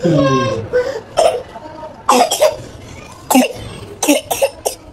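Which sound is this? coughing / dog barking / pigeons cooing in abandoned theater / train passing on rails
coughing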